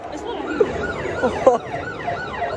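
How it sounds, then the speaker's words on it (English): An ambulance siren wails continuously with a rising and falling tone, fairly loud and steady, with some background street noise. "I know why the ambulance is there"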